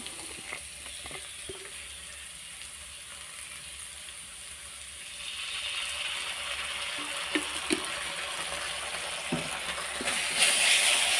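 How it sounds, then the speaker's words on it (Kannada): Tomato sauce is added to fried rice frying in a pan, and the sizzle rises into a steadier, louder hiss as it hits the hot pan, with a few clinks and stirs near the end. "ಈಗ ಸ್ವಲ್ಪ ಟೊಮೆಟೊ ಸಾಸನ್ನು ಹಾಕ್ತಾ ಇದ್ದೇನೆ"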